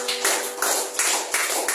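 A church congregation claps in a steady, rhythmic beat, the sharp hand claps fairly close and loud with no voices over them.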